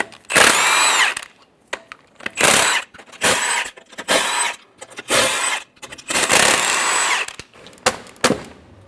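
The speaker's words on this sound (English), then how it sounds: "Using a 22mm socket, remove the 6 lug nuts." A power tool with a 22mm socket spins the six lug nuts off the front wheel of a 2014–2018 Chevrolet Silverado 1500, heard close and loud as a string of short whirring bursts with brief gaps between them.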